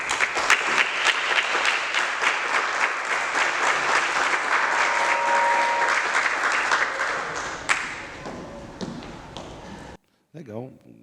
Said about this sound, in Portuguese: As palmas duraram até ali, ó.